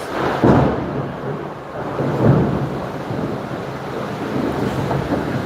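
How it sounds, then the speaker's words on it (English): Thunder from lightning rolls in a loud, deep, continuous rumble with swelling peaks, mixed with a steady wash of rain and wind. "Oh my god, I hate lightning so much."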